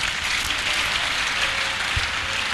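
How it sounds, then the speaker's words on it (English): A congregation at a church healing service claps and applauds in a dense, steady wash of sound that holds close and loud with no talk over it. "Clap your hands for Jesus."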